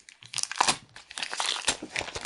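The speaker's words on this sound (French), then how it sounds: "Alors, on va déballer doucement." Gift parcel from a swap being unwrapped slowly, with close, continuous crinkling and crumpling of wrapping, occasional sharp tearing and rustling bursts, and no talk over it.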